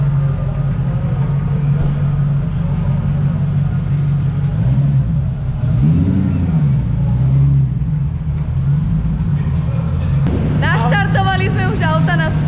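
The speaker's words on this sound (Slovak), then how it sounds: "Naštartovali sme už auta na spanilú jazdu." Several cars started up for a parade drive at a drift event, engines rumbling and revving loudly up close while people talk nearby.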